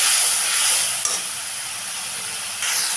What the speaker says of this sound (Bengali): একটু আদার পেস্ট, একটু ভালো করে কষিয়ে নেব মশলাটাকে